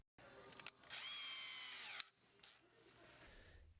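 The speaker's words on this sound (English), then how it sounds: "twist together the blue and the blue with yellow striped wires using a drill" A power drill twisting blue and blue-with-yellow-striped starter wires together, with short whirring bursts, one long spin in the middle and a brief final burst, close and fairly quiet.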